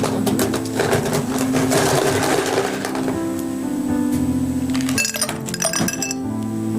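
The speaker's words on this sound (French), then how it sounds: "Je mets les glaçons dans le verre." Ice cubes clink and clatter into a cocktail glass during cocktail preparation, in a run of bright ringing knocks with a busier burst of clinks near the end, and no one talking.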